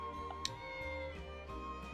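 A cat in Triangle Strategy gives soft, faint meows over a quiet game music bed, a couple of short calls within two seconds.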